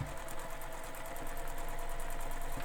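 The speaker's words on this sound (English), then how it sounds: "Now I'm going to turn and sew down the side" A sewing machine stitches down the side of a backpack with mesh, a close, steady, fast needle rattle running continuously for a few seconds with no talking.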